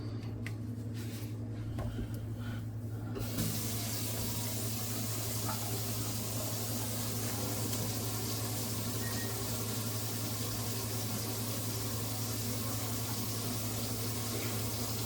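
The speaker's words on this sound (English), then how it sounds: "I'm just going to run some water to get this to back up." Water runs from the tap into a kitchen sink with a blocked drain, a broad steady rushing hiss that starts after a few seconds of quieter handling and continues evenly, with a low hum underneath and no talking.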